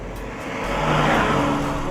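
Honda Civic Type R Championship Edition engine revving, a steady loud roar that rises and holds, close by with no talk.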